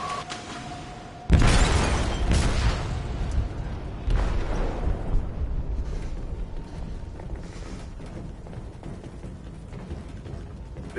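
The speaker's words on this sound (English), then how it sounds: "They detonated an explosive in the hold." An explosive detonating in a ship's hold in the game Detroit: a sudden loud blast followed by rumbling, crackling debris and a second smaller boom, fading into a sustained low roar.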